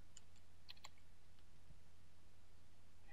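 A search term is typed on a computer keyboard, a few faint scattered key clicks over a low steady hum in a quiet room.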